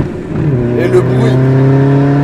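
A tuned VW Golf 4 TDI producing about 317 hp sends out a steady diesel engine drone with rising harmonic tones as it pulls, loud and close, while people talk over it.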